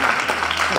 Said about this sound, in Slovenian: Ploskajte sami sebi, no res pač.